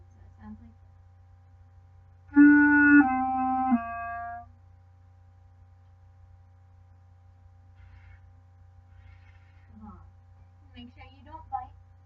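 Clarinet playing a brief slurred run of connected notes, close and clear, with a teacher speaking softly before and after.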